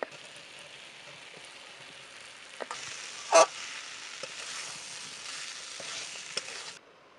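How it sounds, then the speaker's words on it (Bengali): Figs and pre-fried potatoes frying in spice paste give a soft, steady sizzle at low to moderate level with a few scrapes and one sharp clank of stirring, the frying fading out near the end. "এবার এখন দিয়ে দেব ডুমুর আর ভেজে রাখা আলুটা।"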